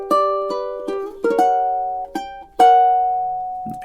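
Fingerstyle ukulele plays measures 1 and 2 of a relaxing song: single plucked notes and soft chord accents in an easy rhythm, close and clean, with one chord left ringing near the end.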